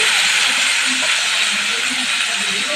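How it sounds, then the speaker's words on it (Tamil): Four chopped tomatoes sautéing in a pan for Tamil tomato thokku, a steady loud hiss and sizzle throughout, close up, with no talk. "4 தக்காளி கட் பண்ணி வச்சுருக்கேன். அதை வதக்கிக்கலாம்."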